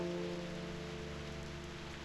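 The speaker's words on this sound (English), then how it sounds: "I don't see why you'd be afraid of rain falling in reverse" Rain falling in reverse in the video game Reverse 1999, an even hiss of rain on a surface with a low hum beneath, faint and unbroken.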